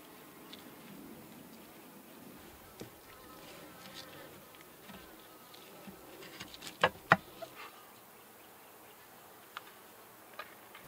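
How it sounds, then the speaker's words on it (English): Honey bees buzz around an open hive in an outdoor bee yard, a faint continuous hum with scattered louder passes of single bees drifting close by, and no voices. "It's always a pleasure getting out into the bee yard."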